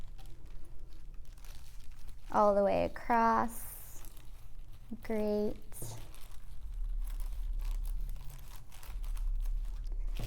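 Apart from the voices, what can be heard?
scissors cutting handle off plastic bag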